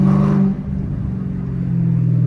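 A Dodge Demon's engine rumbles loudly and close, a deep steady idle that briefly revs, with a faint whine riding over the low drone.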